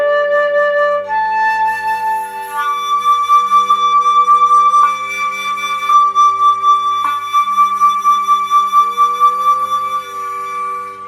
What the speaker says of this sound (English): I'm going to alternate between the overblowed low D fingering and a high D.